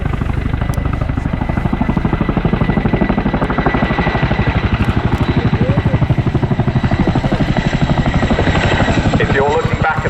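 A Royal Air Force Boeing Chinook helicopter at the Cosford Air Show throbs loudly and steadily with rapid rotor beats throughout, while a commentator talks over it.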